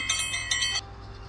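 A bright metallic notification chime rings twice in quick succession, a clean ringing bell tone that cuts off abruptly and leaves a faint hum.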